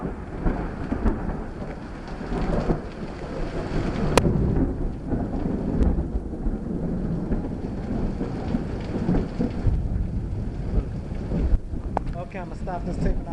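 Heavy rain pours steadily during a rainy-day thunderstorm, with deep rumbling that suits thunder after lightning, a continuous loud wash that stays fairly even throughout, with no clear talk.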